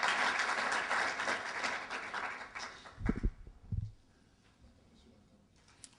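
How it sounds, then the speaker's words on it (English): Brief round of applause from a conference audience, moderate clapping for a few seconds that tapers off into quiet room noise with a couple of low thumps. "Round of applause to the Social Workers' Party."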